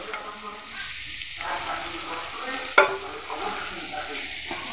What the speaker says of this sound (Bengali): এখন এটা গলা পর্যন্ত এটাকে ভাজতে থাকবো, টমেটো নরম হওয়া অবধি।